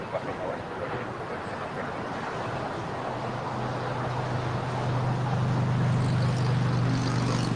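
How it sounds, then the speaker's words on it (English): A Delta Connection Embraer E175 LR jet arriving at LAX from Portland, heard as a broad steady roar that slowly grows louder, with a low engine hum rising toward the end, no talk over it. "Our next arrival is Delta Connection, Flight 3542, coming in from Portland on an Embraer"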